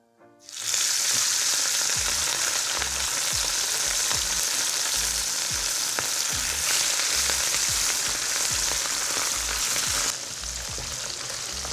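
Sprat fish sizzle and crackle steadily in hot oil, a loud continuous frying hiss with small pops that eases slightly near the end.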